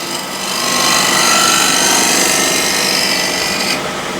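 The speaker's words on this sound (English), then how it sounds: "just to show you that it can be done with a square and scraper" A square's edge used as a scraper shaves across a wooden surface in one continuous, loud, rasping stroke close by, fading abruptly at the end, with no talking.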